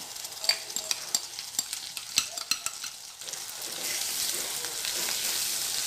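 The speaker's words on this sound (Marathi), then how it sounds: "मी वाटलेला मसाला घालून छान परतून घेणार आहे तेल सुटेपर्यंत." Ground masala paste sautéed in oil for Maharashtrian katachi aamti, with steady close sizzling and a run of sharp spoon scrapes and taps against the pan in the first half, settling into a continuous hiss.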